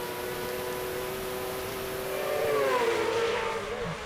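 A Yamaha F1 racing sidecar at Cadwell Park sweeps past on track, its high engine whine rising as it nears and then shifting downward as it passes, heard from a distance.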